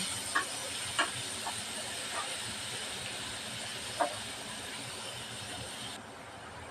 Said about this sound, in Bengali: এই তেলের ভিতরে দিয়ে দেব পেঁয়াজ কুচি পেঁয়াজটা ভালোভাবে ভাইজা নেব